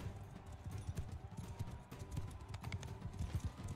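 Horse hooves clip-clop steadily in Mount & Blade 2 Bannerlord, a quiet, rhythmic stream of soft thuds from mounted riders on open ground, faint and alone without talk.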